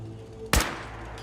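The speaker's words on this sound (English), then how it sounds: "First, let's shoot the target." A single sharp gunshot in Fallout 4, fired at a target in a settlement build, a loud abrupt crack with a short decaying tail against quiet background.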